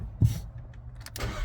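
A brief starter crank and catch as a Volkswagen Jetta engine starts, a short thump followed by a rising rumble, close and fairly quiet, with no talk.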